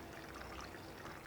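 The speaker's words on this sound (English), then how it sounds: "Then you pour your water right down the middle" Water pours steadily down the middle of a flower vase holding a hand-tied bouquet, a continuous close hiss of running liquid with no talk.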